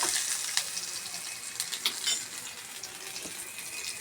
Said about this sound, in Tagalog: nagigisa pa tayo ng bawang gulay